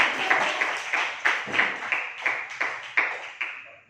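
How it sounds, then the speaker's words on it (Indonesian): Applause for a group in a classroom guidance lesson, about nine evenly spaced bursts of clapping at moderate distance, crisp and steady with no voices over it. "Tepuk tangan untuk kelompok realistik ya."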